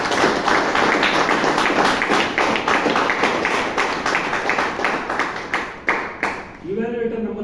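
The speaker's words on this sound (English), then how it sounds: "let's give a big round of applause" Audience at a Bangalore Toastmasters meeting breaking into applause, dense rapid clapping from many hands filling most of the stretch before fading out, followed by a voice starting to speak.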